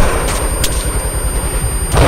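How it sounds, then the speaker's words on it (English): A loud, close burst of gunfire for the final shot, sharp reports over a heavy booming rumble with a second impact at the end. "Firing last shot."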